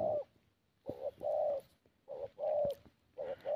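A spotted dove coos close by in a repeating pattern of soft, hollow three-part phrases separated by short pauses, clear against quiet outdoor background.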